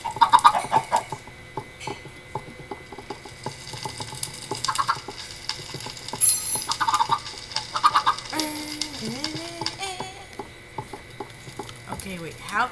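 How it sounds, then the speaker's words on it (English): Chickens in a video game, one repeatedly dying in a fire, cluck and squawk in scattered bursts over game sounds and a continuous background hum. "These chickens keep killing themselves in the fire!"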